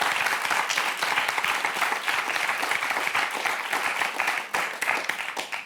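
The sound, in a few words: studio audience applauding three contestants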